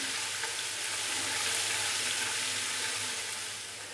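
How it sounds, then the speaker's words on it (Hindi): Ginger-garlic paste frying in oil in a pan for potato curry, a loud, even sizzle holding steady throughout and easing slightly at the end, with no talking. "अदरक और लहसुन के पेस्ट को भी हल्का सा फ्राई कर लेंगे"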